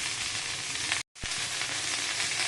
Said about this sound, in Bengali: বন্ধুরা দেখো দেখো, ঢ্যাঁড়স ভাজাটা বসিয়ে দিয়েছি